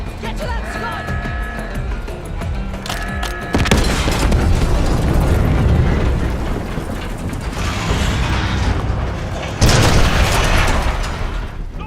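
A Scud missile launch in a Call of Duty: Black Ops 6 cutscene: mechanical clanking gives way to a loud, sustained roaring blast, with a second surge of rumbling thrust near the end.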